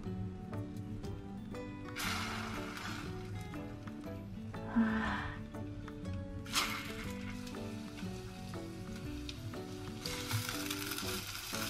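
Snack frying in coconut oil in a home kitchen, a steady bright sizzle that swells in bursts, with soft stirring and scraping under the continuous hiss.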